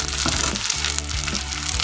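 Tempe and anchovy fritters frying in very hot oil, a dense, steady sizzle with crackling bursts that stays loud and close the whole time, with no voices.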